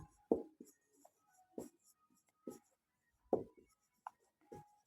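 A pen scratches across a paper math worksheet in short, separate strokes with pauses between them, close and fairly quiet, with no talking.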